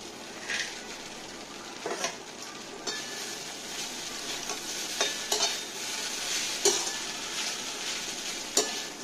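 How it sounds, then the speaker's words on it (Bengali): Cashews, raisins and peanuts, fried beforehand, are stirred into rice in a hot pan, giving a steady soft sizzle with a few sharp scrapes and clinks from the spoon against the pan. The stirring is close and moderately quiet. "এর মধ্যে আমি এবার ভেজে রাখা কাজু, কিশমিশ আর চীনাবাদামটি দিয়ে দেবো।"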